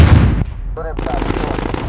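Cluster strike in Call of Duty Modern Warfare team deathmatch on Shipment: dense, loud rattling bursts of explosions, then a short electronic tone, followed by continued rapid crackling fire.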